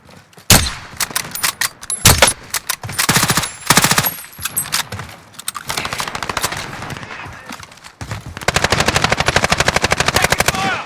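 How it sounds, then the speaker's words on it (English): Call of Duty: Modern Warfare squad combat brings loud, close bursts of automatic gunfire, rapid rattling volleys alternating with single shots and short pauses, ending in a sustained fast-firing stretch. "Taking fire."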